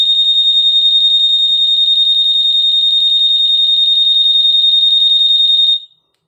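A loud, piercing motorcycle keyless alarm siren, fitted to a Honda Scoopy, shrills continuously for nearly six seconds with a rapid pulsing warble, then cuts off abruptly.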